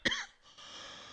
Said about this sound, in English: I had to cough